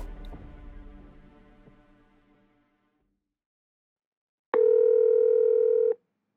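A fading resonant tone dies away into silence. Then a telephone dial tone sounds, a clear, steady hum lasting over a second before it cuts off while a call is placed.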